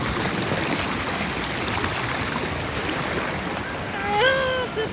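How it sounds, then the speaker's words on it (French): A cold mountain stream rushes and hisses steadily nearby during a wade across it, with a brief higher voice near the end. "La surprise de la fin, c'est la traversée du ruisseau les amis."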